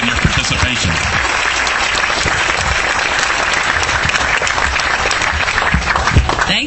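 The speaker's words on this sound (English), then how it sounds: "let's give you all a round of applause for your courage and your participation." Audience at a meeting gives a loud, sustained round of applause, thick continuous clapping with a few voices mixed in beneath it.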